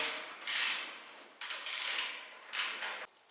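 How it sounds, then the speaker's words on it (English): A wrench ratchets bolts off a Woodland Mills WC68 PTO woodchipper, three bursts of rapid metallic clicking with short pauses between, close and clear with no talking. "So I'm going to just take these bolts off here."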